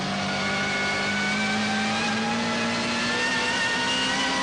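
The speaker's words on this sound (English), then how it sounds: "Acceleration, the M3 GTR, 500 horsepower." A 500-horsepower BMW M3 GTR race car accelerating hard on the Nürburgring Nordschleife, its loud engine note rising steadily in pitch through a gear, close and continuous with no voices.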